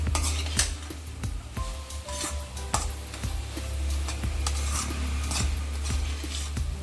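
A thick, heavy coconut burfi mixture is worked around a pan with steady scraping and clinking of the spoon against metal, close and continuous, with a soft sizzle underneath.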